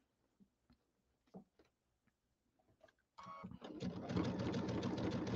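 A sewing machine starts up after a few quiet clicks and handling taps, then runs steadily and fairly loud, stitching binding onto a pillow.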